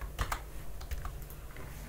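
Typing a git commit message on a computer keyboard: quiet, close key clicks in quick irregular bursts with short pauses between.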